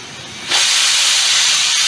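A pressure cooker holding chicken curry bursts into a loud, sustained hiss of escaping steam about half a second in, running on without pause.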